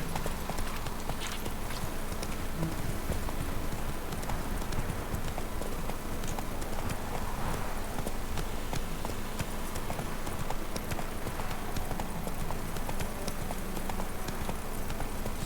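Horse hooves clip-clop steadily at a gallop in The Witcher 3, a continuous fast rhythm over an ambient game soundscape, with faint rain-like hiss beneath.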